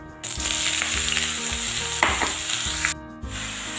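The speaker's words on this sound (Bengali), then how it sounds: "লাউ দিয়ে দিয়েছি, এবার খুব ভালো করে মিশিয়ে নেব।" Chopped bottle gourd meets hot oil tempered with dried red chilli and a bay leaf, sizzling loudly and steadily while a utensil stirs and scrapes through it, with a brief break in the sizzle near the end.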